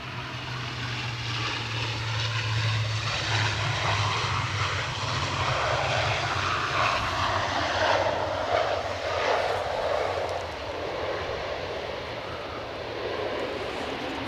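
EasyJet airliner engines at Edinburgh Airport on a windy day, a loud continuous roar that swells and slowly fades, heard outdoors with no talking.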